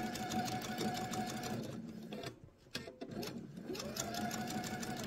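Sewing machine stitches an eyeglasses case at a steady whir, with a short pause and slowing near the middle before resuming at full speed.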